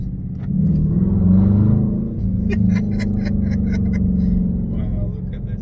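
Deep, steady exhaust rumble from a car with its muffler deleted, loud and close, swelling slightly early on and then holding a constant throaty drone, with a voice faintly present.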